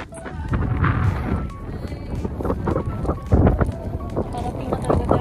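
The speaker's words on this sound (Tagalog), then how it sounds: "sobrang hangin" Strong wind in the desert buffets the microphone with gusty low rumbles and blustery bursts, heard close and loud alongside vehicle movement and voices.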